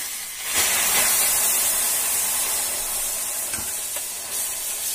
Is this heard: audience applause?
no